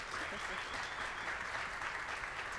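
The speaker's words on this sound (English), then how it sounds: "let's round of applause." An audience at a museum conference session applauds in a steady, dense wash of clapping that lasts throughout, with talk mixed in.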